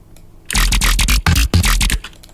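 Dubstep growl bass patch built in the Serum synth, heard dry with its effects briefly restored: loud, gritty bursts chopped into a stuttering rhythm of short blasts with brief gaps, standing alone without talk.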